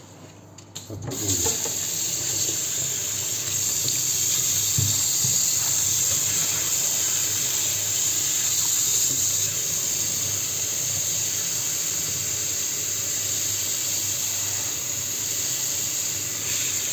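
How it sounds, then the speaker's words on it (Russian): Water gushes steadily from a jacuzzi tap being tested, a loud continuous hissing rush that starts abruptly after a moment and holds without pause. "Проверка джакузи, ну закрывай воду."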